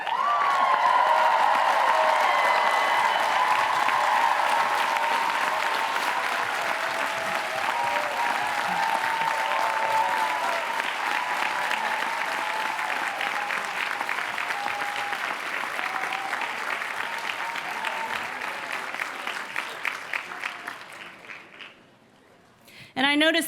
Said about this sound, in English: give a round of applause for those who have helped you on this journey